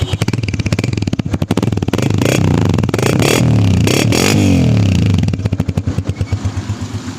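A 2020 Honda CG 125 motorcycle engine running close up with slightly loose tappets, a loud, fast, clattering beat that swells as it revs up, then eases back to a quicker idle pulse.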